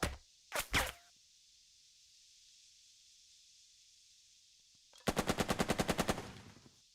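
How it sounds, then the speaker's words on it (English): Machine gun attack in the WW2 video game Burden of Command: a short double burst, then quiet hiss, then a longer loud rapid burst of about a dozen evenly spaced shots that fades at the end. "it seems like just having the machine gun attack"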